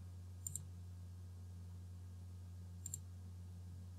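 Two faint computer mouse clicks, each a tiny double tick, sound about two seconds apart over a low steady electrical hum in a quiet room.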